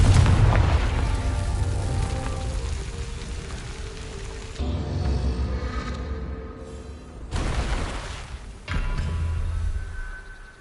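Confringo fire-blast spells explode in Hogwarts Legacy: a loud initial boom followed by several more bursts at uneven intervals, each a broad crackling blast over a rumbling, rain-like wash, with no voices.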